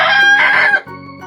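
A rooster crows once, loud and close, in a bright, strained call that cuts off sharply near the end and is followed by a fainter tail, with no talking.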